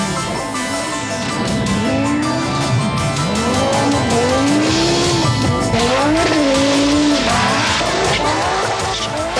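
An Audi Quattro rally car slides up the Pikes Peak course, its tyres squealing in long wavering howls over a revving engine, loud and close, sweeping from one side to the other.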